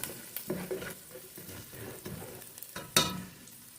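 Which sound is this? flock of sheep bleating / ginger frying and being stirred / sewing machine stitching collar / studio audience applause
ginger frying and being stirred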